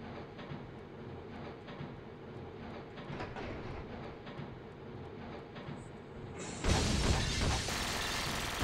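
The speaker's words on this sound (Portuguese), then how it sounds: "Explodiu o trem?" A train explodes in the video game Syphon Filter 3, where steady mechanical rumbling and rattling suddenly give way to a loud, harsh shattering blast that continues as a sustained roar.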